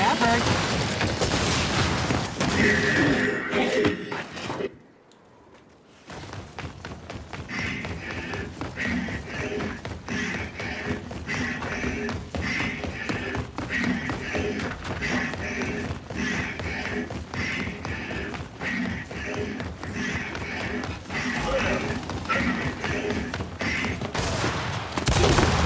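Rapid gunfire from the video game Gears 5 during a team deathmatch, dense bursts and thuds running almost continuously, broken by a brief lull, with players talking over the shooting.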